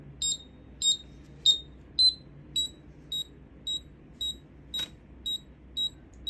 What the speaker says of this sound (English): I have covered the buzzer with my thumb to avoid loud noises